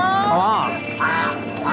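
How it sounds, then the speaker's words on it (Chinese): Several geese honk in short, rising calls, close and fairly loud, with people talking over them. "我听这几只大鹅这叫声不太对啊"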